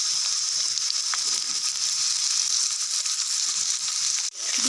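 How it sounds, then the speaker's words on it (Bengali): Potato pieces and onion frying in oil in a pan: a steady, close hissing sizzle that holds throughout, with a faint scrape near the end, no talking. "পেঁয়াজটা একটু ভাজা ভাজা হয়ে গেছে, এতে এবার আলুর টুকরোগুলো দিয়ে দেব।"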